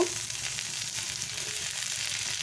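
Eggplant and other vegetables drop into a pan of frying onions and potatoes, giving a steady, close hissing sizzle that holds for the whole stretch, with no talking.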